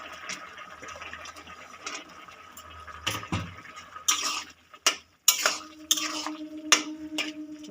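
Fried chicken pieces being added into a pot of potato curry, heard as scattered clatters, soft liquid splashes and stirring knocks against the pot, fairly quiet and close, with no speech.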